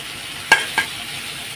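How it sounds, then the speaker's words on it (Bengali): Potatoes frying in a pan for a papaya and potato curry, stirred with three distinct scraping strokes over a steady, soft sizzle. "সব এক করে আলুগুলো সব দিয়ে দিয়েছি এখন নেড়ে ছেড়ে দেবো"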